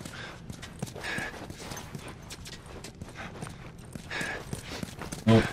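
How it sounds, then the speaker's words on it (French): Distant footsteps in The Last of Us Part 1 tread in an uneven rhythm under a low ambient bed, faint and far off, ending with a louder thump near the close. "J'entends quelqu'un qui marche. Un petit bruit de pas, mais de loin."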